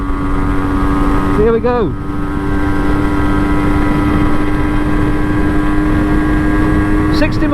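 A 1984 MZ TS125 two-stroke motorcycle revving hard in fourth gear, a loud continuous engine drone with steady harmonics and wind roar throughout, while a rider briefly speaks over it.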